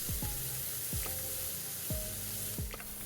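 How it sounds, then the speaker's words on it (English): Onion sautéing in a pan gives a steady sizzle and hiss throughout, close and even, with a few faint clicks and tonal sweeps in the background and no talking. "Added 1 small bulb of onion, peeled and sauteed for 2 minutes."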